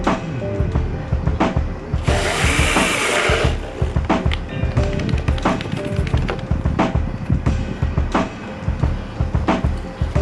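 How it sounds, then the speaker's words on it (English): A power drill with a hole saw cuts a 3-inch plumbing hole through the wall of a JDM Isuzu Elf camper, heard as a whining, grinding run interrupted by repeated sharp knocks and scrapes, close and loud. "now I gotta drill my new holes for all the plumbing. Another 3-inch hole."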